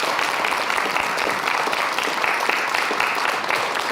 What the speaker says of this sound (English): So I know that I would just like to give him a hand of applause.